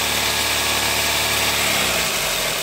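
A Toyota engine running steadily at around 2000 to 2500 RPM, with work done on the EGR vacuum modulator for a P0401 fault; a continuous, even hum and vibration up close, with no talking.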